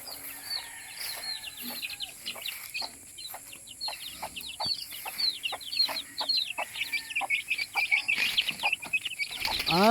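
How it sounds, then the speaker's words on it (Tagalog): Hens cluck and chatter in a continuous flock, with a few short sharp calls standing out, moderately near and outdoors. "Madaming manok."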